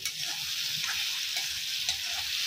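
Tomato and fish curry sizzles and fries steadily in a pan, a continuous close crackle with faint stirring scrapes and no voices.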